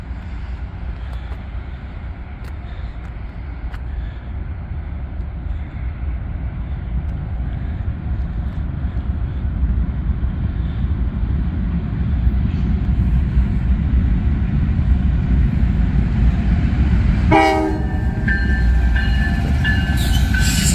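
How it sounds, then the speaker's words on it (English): Norfolk Southern Conrail heritage locomotive 8098 passes at night in Pittsburgh with a steady, swelling rail rumble. A brief sharp burst comes near the end, followed by a sustained high tonal whine over the roar. "Here he comes, 8098, my favorite locomotive from the NS fleet and Heritage fleet on top of it."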